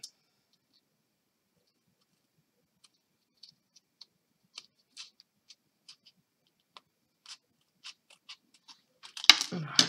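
Scissors cut paper for a handmade card, heard as a sparse series of small, crisp snips spaced out across a quiet room, growing busier with a louder rustle of paper at the very end. No one speaks.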